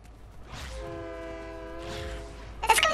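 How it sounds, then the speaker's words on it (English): A ghost train in the Fortnite video game sounds a long, steady multi-tone horn blast at moderate volume, followed by a rushing passing noise. "ghost train!"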